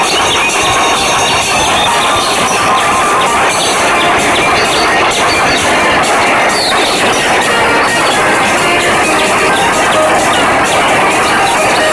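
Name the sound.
train on tracks in a children's video game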